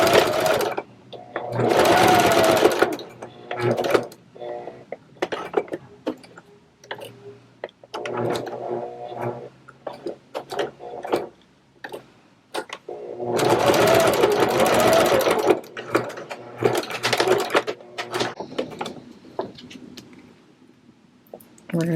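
Sewing machine fitted with a walking foot and set to a long stitch, sewing a Pokemon book bag in two loud, sustained bursts with a quieter stretch between, while a person talks over it.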